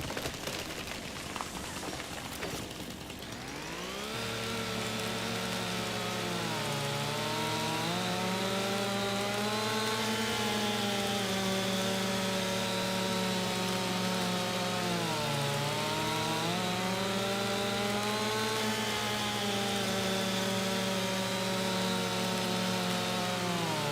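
A chainsaw in Farming Simulator 25 starts up and runs continuously through tree cutting, its loud steady engine whine rising and dipping in pitch as the load changes, close and without speech.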